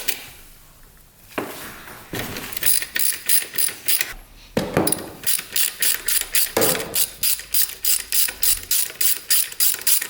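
A ratchet loosens the oil drain bolt on a dirt bike with loud, close, rapid rhythmic clicking in repeated bursts, broken by brief pauses and repositioning clunks.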